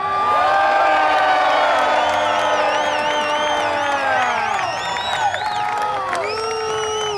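Large crowd cheering and whooping loudly at a MotoGP rider event in Indianapolis, sustained roar with shrill whistles and shouts rising and falling throughout.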